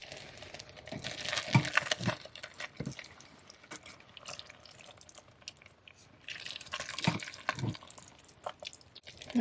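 Cheesy ham and hash brown potluck bake being stirred in a crock pot with a liner, giving soft wet squelches and sticky clicks in irregular bursts, close up with no talking.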